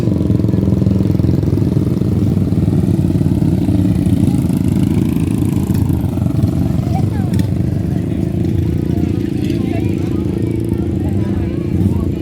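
A motorcycle taxi engine idles steadily up close at Mount Papandayan, Garut, with a constant low rumble, loud and unbroken throughout.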